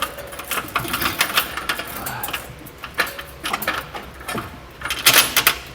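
Metal hardware clinks, scrapes and rattles as a bolt is fed through the frame to mount a trailer hitch receiver on a 2018 Mazda CX-5, in a steady run of close, irregular taps and jangles with no talking.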